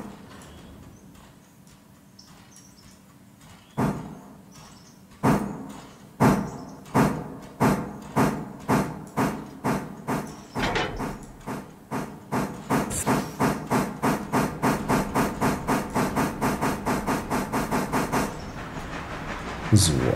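A steam train shunting in the game Railroader, loud chuffs starting slowly and then quickening into a rapid, steady beat as it gains speed, with hiss between beats and a voice talking over it.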